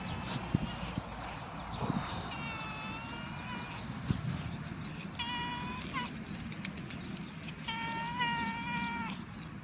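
A cat in a garden gives several drawn-out, wavering meows, spaced apart over steady outdoor background noise and occasional thumps, with no clear speech.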